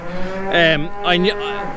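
Cattle in a shed with a newborn calf, one cow lowing twice in close, loud drawn-out moos, the second call rising at its end, with no talk over them.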